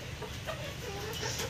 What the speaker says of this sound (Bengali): দেখেন আমার দেশি মুরগিগুলো